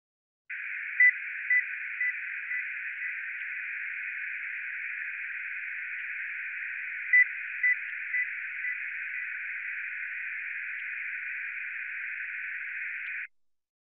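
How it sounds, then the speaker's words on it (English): A 2000 Hz test tone sounds as short beeps stepping down in level, partly buried in a steady band of noise 1000 Hz wide centred on the tone; the descending series plays twice. "Next, the noise has a bandwidth of 1000 Hz."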